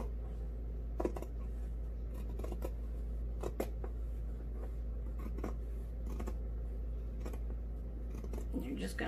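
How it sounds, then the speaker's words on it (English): Scissors snip along a line through material in a craft session, small crisp cuts repeating irregularly over a constant low hum, close and fairly quiet. "Going to cut right along the line."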